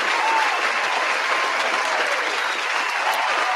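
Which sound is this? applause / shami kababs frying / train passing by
applause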